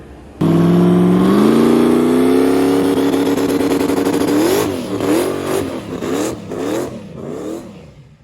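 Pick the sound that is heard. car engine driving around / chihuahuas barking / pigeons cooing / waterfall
car engine driving around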